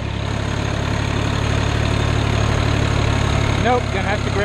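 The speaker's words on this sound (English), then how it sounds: "Can the old tractor make it?" An old tractor engine labours steadily while pulling a loaded manure spreader, a loud continuous low drone close by, with voices heard briefly over it near the end.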